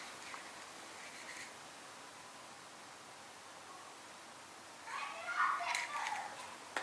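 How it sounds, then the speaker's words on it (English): Children playing out in a residential neighborhood, faint and distant beneath a steady hiss, their high voices swelling briefly near the end. "Kids playing in the neighborhood."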